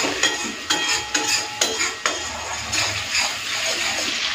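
Spice paste for a prawn curry being cooked in mustard oil, with a soft sizzle under a series of sharp spoon-on-pan scrapes and knocks roughly every half second, then steadier stirring.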